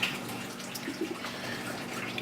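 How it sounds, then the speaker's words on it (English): Cooked pasta and asparagus are poured from a pot into a colander, a soft, steady rush of draining water with faint splashes and drips, heard alone. "Our pasta and asparagus is done now, so we're going to pour that through a colander here and just let it drain"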